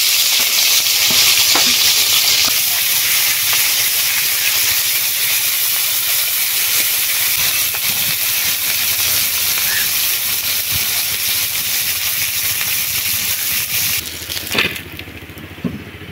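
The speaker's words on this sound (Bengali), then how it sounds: "এবারে শুটকি মাছগুলো দিয়ে দেবো।" Dried fish fry in mustard oil in a wok, a loud, dense, steady sizzle and hiss close by that thins slightly toward the end, with a few stirring scrapes and no speech.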